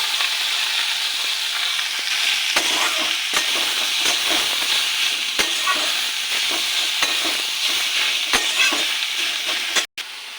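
Chopped garlic, slit green chili and red amaranth greens fry in a pan with a steady, close, loud sizzle, broken by occasional sharp taps and scrapes of a spatula being stirred.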